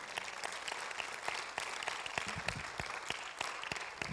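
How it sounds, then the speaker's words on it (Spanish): A church congregation claps for the Lord during a sermon, a steady dense patter of many hands at moderate distance, with individual sharper claps standing out. "denle un aplauso al Señor"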